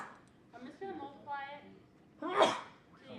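A single loud sneeze bursts out during a classroom math lesson, following a stretch of someone talking, with more speech resuming faintly afterward.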